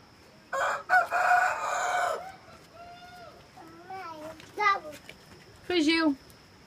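Rooster crowing on a rural smallholding, a loud harsh crow near the start, then softer rising calls and a final short crow, with someone talking in between.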